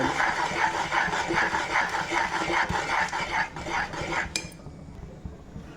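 Jowar flour is poured into a pan of simmering water on a gas stove and stirred in. A utensil scrapes and clinks against the pan in close, busy strokes that stop abruptly near the end.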